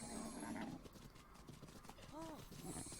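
A horse in The Legend of Zelda: Breath of the Wild clip-clops, then gives a short whinny near the end. A player talks over it throughout.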